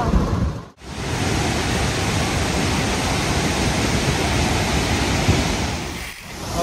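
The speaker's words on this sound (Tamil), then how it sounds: "இந்த வாட்டர் ஃபால்ஸ் அவ்வளோ சூப்பராக இருக்குது" Ban Gioc Waterfall in Vietnam thunders as a dense, constant rush of falling water, loud and close, with a brief dip early on before the roar resumes unbroken.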